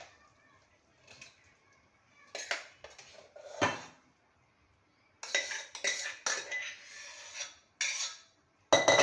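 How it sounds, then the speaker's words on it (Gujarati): Metal clanks and scrapes in short bursts as a heavy pressure cooker lid is handled, twisted and lifted, loud and close with pauses between. "હવે આપણે કુકર ખોલીશું"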